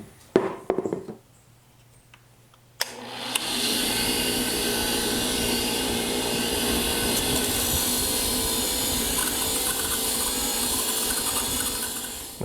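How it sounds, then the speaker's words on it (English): A wire wheel on a bench grinder spins up and scours corrosion off a part from a 1972 Honda CB450, a loud, steady, close whirring grind that starts abruptly after a few faint handling knocks and runs unbroken to the end. "my best bet for getting rid of all of this corrosion would be the wire wheel on the bench grinder"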